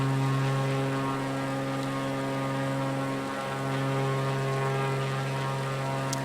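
Propeller airplane in Microsoft Flight Simulator over Rio, a steady droning engine hum with strong tonal bands, loud and constant throughout as the plane climbs, no talking.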